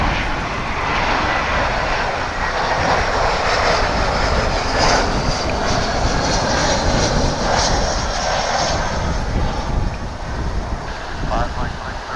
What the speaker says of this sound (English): American Flight 2811, that's an A321 coming in from Los Angeles. So you'll be able to hear that as it passes by